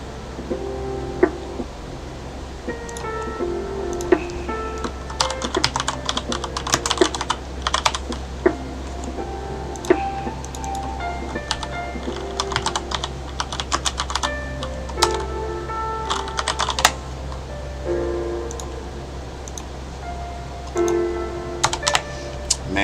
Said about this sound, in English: Man, mechanical keyboard sometimes, eh?